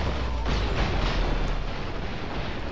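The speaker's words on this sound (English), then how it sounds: "Oh, I died by the explosion." A heavy explosion rumbles through the Broforce video game, a dense, sustained blast of low roaring noise with crackling bursts across the whole stretch.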